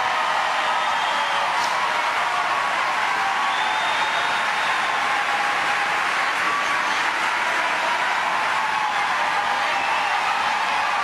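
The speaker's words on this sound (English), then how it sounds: "And this crowd, a standing ovation." A tennis crowd gives a standing ovation after a match win at Memphis in 2007, a dense, steady wash of applause that carries on throughout without pause.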